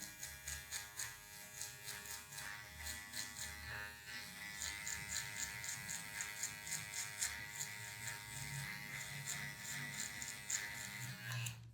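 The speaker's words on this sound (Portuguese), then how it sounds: "vou tirar esse cabelinho da parte de baixo aqui, ó, com a máquina de acabamento" An electric hair trimmer buzzes steadily close up while tidying short hair at the nape during a low fade haircut, its whine pulsing slightly as it passes over the skin.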